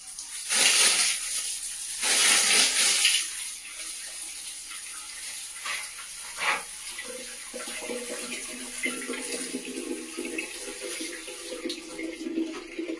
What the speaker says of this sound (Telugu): ఇది బాత్రూమ్ నల్ల.